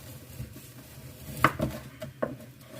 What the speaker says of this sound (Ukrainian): А для суфле ми нарізаємо такими шматочками